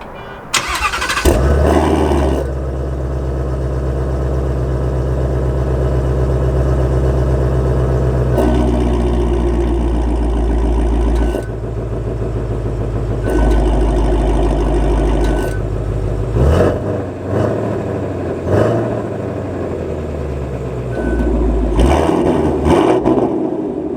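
A 2019 Ford Mustang Shelby GT350R cranks and fires up loud and close, settling into a steady rumbling idle broken by several sharp revs and blips toward the end.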